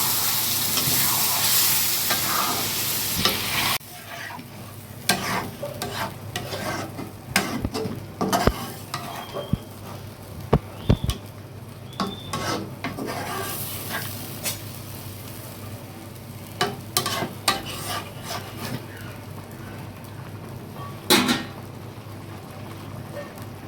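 Shing fish pieces sizzle steadily after going into a pan of cooked-down spiced masala. The frying sounds close and continuous, with scattered stirring scrapes and spatters throughout.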